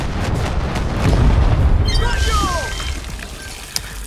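Rocket explosions rumble in Far Cry 6, a heavy low boom rolling through the first seconds with whistling, descending projectile streaks after it and debris crackle fading out.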